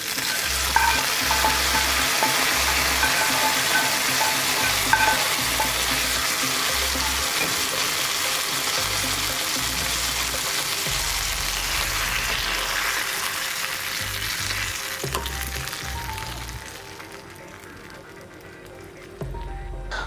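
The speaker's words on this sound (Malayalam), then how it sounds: "അതിൻ്റെ പുറത്തുകൂടെ കശുവണ്ടിയും കൂടെ കൂട്ടിയാണ് നമ്മൾ വറുത്തെടുക്കുന്നത്" Cashews fry in hot oil in a pan for curd oats, giving a continuous close sizzle with soft spattering crackles that fade toward the end.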